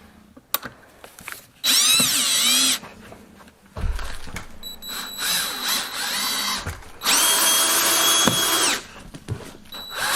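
A power drill drives cheap screws into a barn roof in several loud bursts of rising and falling whine. Quiet gaps with small knocks and clatter fall between the bursts.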